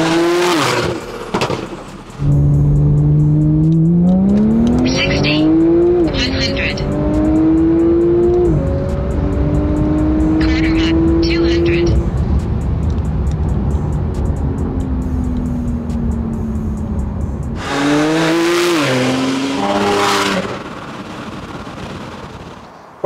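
A Porsche 992 Turbo S with a full exhaust system and custom tuning revs hard and close. The engine pitch climbs in stepped surges with crackling pops, goes quiet briefly, then rises again in a second loud burst.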